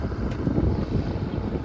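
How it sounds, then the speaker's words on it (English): Wind rising while sailing a boat near Poulsbo, a steady low rushing roar across the microphone with no talk, continuous and fairly loud throughout. "the wind is picking up a little bit"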